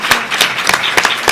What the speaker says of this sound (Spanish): Un primer aplauso para cerrar la entrevista.